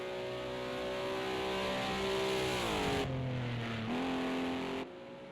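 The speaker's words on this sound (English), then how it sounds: "nice bit of drifting going on there" A Cadillac race car drifting at Watkins Glen in a racing video game: a steady, loud engine drone with shifting pitch, a sudden drop partway through as the revs change, then a lower, quieter tail.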